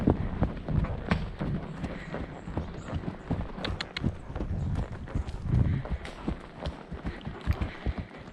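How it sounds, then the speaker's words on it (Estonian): Horse hooves on a trail ride through a national park, trotting or galloping in a steady rapid rhythm of thuds, close and continuous, with some talk around. "Võid ka minna traavis või galopis."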